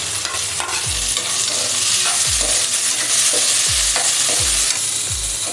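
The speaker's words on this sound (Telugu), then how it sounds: "టమాటా ముక్కలు వేస్తాం కదా, ఒక 5 నిమిషాలు మగ్గనిద్దామండి." Tomato pieces frying in a pan for pakoda curry, a loud continuous sizzle with repeated thudding strokes of a spatula at a steady pace, up close and without speech.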